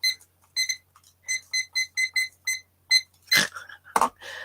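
A timer alarm gives a run of sharp, high electronic beeps in quick bursts, close and clear, followed by a couple of louder noisy clatters at the end.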